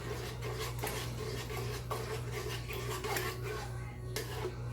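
Goat jollof rice, Ghana style, being stirred in a pot, with soft scraping and rubbing of a spoon against the pot in a steady rhythm, faint and close, without any talk.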